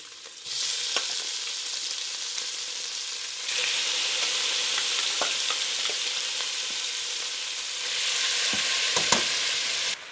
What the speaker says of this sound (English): I'm going to crank up the heat nice and high to fry off these little pieces of meat